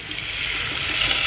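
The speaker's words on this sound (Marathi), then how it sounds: "थोडंसं पाणी ॲड करू आपण" A little water pours into a pot of sago kheer in a home kitchen, a soft, continuous trickle that fills the short moment on its own.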